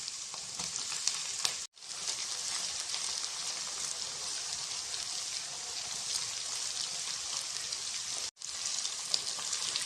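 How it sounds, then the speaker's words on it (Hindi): Ginger garlic paste fries in a pan for chicken jalfrezi, a steady close crackling sizzle with two brief dropouts and no talk. "अदरक लहसुन के पेस्ट को हमने अच्छे से फ्राई कर लिया।"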